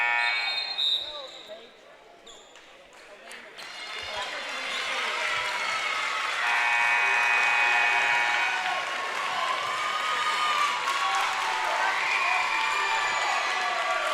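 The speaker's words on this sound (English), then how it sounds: "Clarke County giving their players a round of applause as they take a seat" A home crowd in a high school gym applauds players during a region semi-final basketball game, a broad swell of clapping and cheering that builds and holds while an announcer talks over it.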